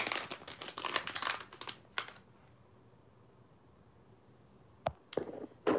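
Sticker packaging crinkles and crackles close up in quick rustling bursts, followed by a quiet pause and then a few sharp crinkles and clicks.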